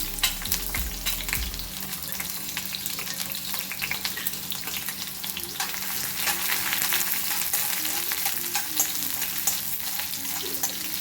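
Sliced onion fries in oil in a pan, a continuous close sizzle crackling with small pops, broken now and then by the scrape of a spatula, steady and fairly loud throughout.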